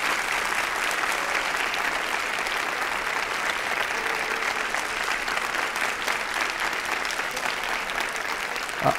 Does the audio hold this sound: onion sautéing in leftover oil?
no